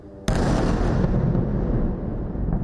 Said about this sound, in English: as the darkness is lit by yet more explosions